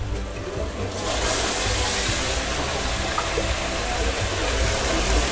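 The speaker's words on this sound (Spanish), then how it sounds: "Ya de ahí echamos la agüita." Water poured into a dish on the stove, a steady loud rushing splash that starts about a second in and keeps going to the end.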